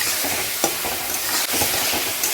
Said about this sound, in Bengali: সামান্য আদা বাটা দিয়ে দিচ্ছি।